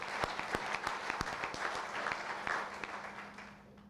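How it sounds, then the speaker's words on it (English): Applause from an audience at a gathering: many hands clapping at a moderate distance, dense and steady, then gradually thinning out and fading toward the end. "Give him another round of applause."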